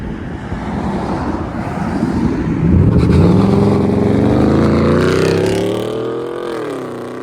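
A 2016–2018 Chevy Camaro SS V8 with true dual exhaust and the X-pipe deleted revs up close and loud, a deep rumbling roar that swells as the engine climbs and then eases off, with no talk.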